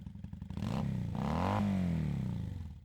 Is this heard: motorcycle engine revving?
yes